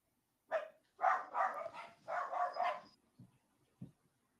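Dogs barking indoors in a few close, fairly quiet bursts, a run of yips followed by two short low woofs.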